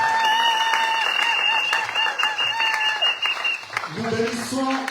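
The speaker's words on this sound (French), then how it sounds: "Manifestez un acclamation très fort le Seigneur de gloire." A church congregation applauds and acclaims together, a steady wash of clapping blended with sustained musical tones and voices throughout.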